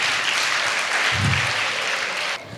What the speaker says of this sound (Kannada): ಚಪ್ಪಾಳೆ ಮೋಹನಿಗೆ ಚಪ್ಪಾಳೆ